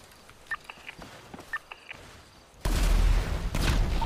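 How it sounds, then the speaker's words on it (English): Gunshots aimed at canisters in a GTA V NoPixel roleplay shootout: scattered sharp pops early on, then a sudden loud, sustained blast-like roar with further impacts on top. "He's shooting the canisters, bro."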